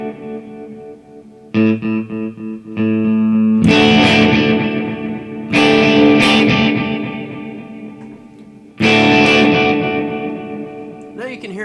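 Guitar notes and chords are played through the Terra Echo delay on a Boss DD-500 pedal. The sound is loud and slightly distorted, with repeating echoes and long modulated tails that decay after each strum.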